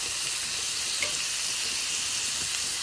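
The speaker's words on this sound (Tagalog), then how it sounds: "kumukulo na yung patatas ko" Potatoes boiling in a pot give a steady, dense hiss like a soft sizzle, continuous and even throughout with no voices.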